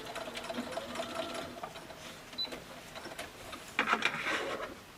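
A sewing machine runs in quick, fairly quiet bursts of whirring stitches as it sews around a quilt-as-you-go Christmas stocking, finishing with short stitches that lock the seam.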